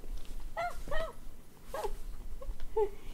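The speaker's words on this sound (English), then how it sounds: "I've got wrestling puppies behind me" Two puppies wrestle in play, giving a string of soft high whimpers, yips and little squeals in short bursts, faint and fairly close against a quiet background.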